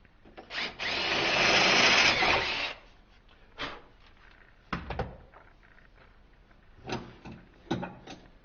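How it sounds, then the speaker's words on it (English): A power drill whirs in one burst of a couple of seconds drilling copper tube, followed by scattered clicks and knocks of handling metal parts. "To get the small copper tube into the great copper tube, we have to drill here a little bit."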